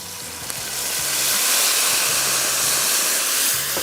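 Whole spices frying in hot oil for chicken qorma give a steady, close sizzling hiss that holds at an even level the whole time, with no talking.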